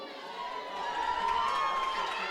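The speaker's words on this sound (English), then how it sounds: "with a big cheer from the crowd" A crowd cheers at a roller derby game, a broad sustained roar that swells louder halfway through and holds steady.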